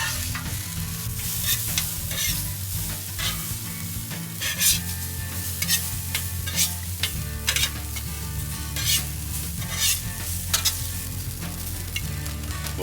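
Hash browns flipped on a Blackstone griddle give a loud, continuous sizzle, with a spatula scraping and tapping the metal surface at intervals throughout.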